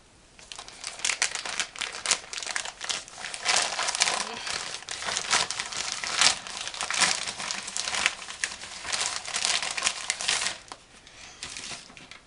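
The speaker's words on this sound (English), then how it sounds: "I'm going to open my last little plasticky envelope from Thrift Books and see what I have." A plastic mailer envelope from a used-book seller crinkles and tears open up close, with a steady run of rustling, crackling and ripping that swells and fades over several seconds.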